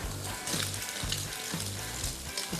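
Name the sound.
Chinese food sizzling in oil in a pan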